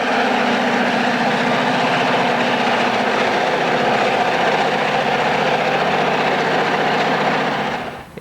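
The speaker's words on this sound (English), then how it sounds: "We head south of Effingham and pace northbound from Edgewood. A pair of SD20s are in the lead." An Illinois Central northbound freight train led by a pair of SD20 diesel locomotives, paced near Edgewood, with a continuous loud rumbling drone of engines and rolling cars that drops away abruptly at the end, no talking.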